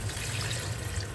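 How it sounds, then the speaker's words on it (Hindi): Water pours steadily into a pot of cooking meat, a dense, even rush of liquid heard close and alone. "अब ऐड करते हैं पानी।"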